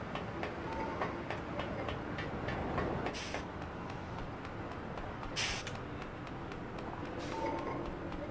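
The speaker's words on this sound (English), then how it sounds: "could have gotten on that train" A train rumbles past in a video game, a steady dense mechanical roar that holds at constant loudness throughout, with brief hissing bursts cutting in now and then.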